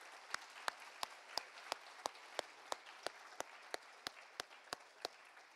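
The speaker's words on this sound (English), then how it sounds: "can we show appreciation to them with a nice round of applause?" An auditorium audience claps in a steady, evenly spaced rhythm, each clap sharp and distinct, fairly quiet and heard alone without talk.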